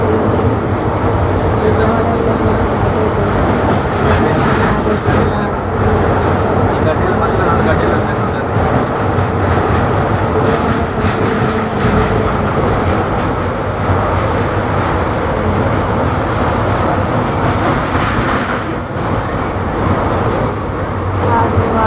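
Loud, continuous rumble of a train with rail clatter and crowd noise at Giddalur railway station, as if standing on a busy platform with people talking nearby.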